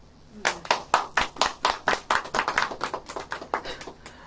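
Congregation at a church prayer meeting clapping together in a steady, loud rhythm of about four to five claps per second, close and crisp, sustained with no talk over it.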